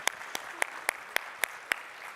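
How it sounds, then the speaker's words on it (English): Hand claps at a morning conference general session, eight sharp, evenly spaced claps in a quick steady rhythm over a faint room hum. "Let's give a hand clap."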